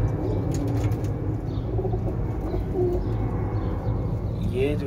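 Chinese pigeons in a pigeon club coo softly and beat their wings in short flurries, close by, over a steady background murmur.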